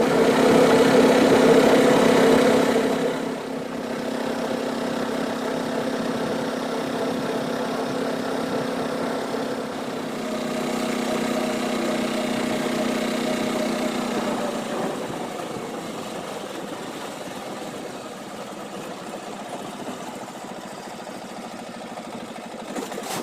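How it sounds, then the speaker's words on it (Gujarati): A farm tractor engine runs steadily nearby, idling with a low, even rumble and vibration that eases slightly in volume partway through, with no talk. "ટ્રેક્ટર આવી ગયું છે હવે આપણે એડી કાઢવા જવાનું"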